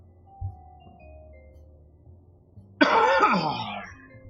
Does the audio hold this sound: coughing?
yes